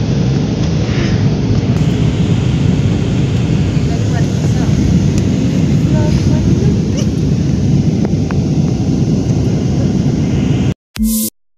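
An airplane lands at Srinagar airport, heard from inside the cabin as a loud, continuous roaring rumble of engines and rushing air, cutting off abruptly at the end.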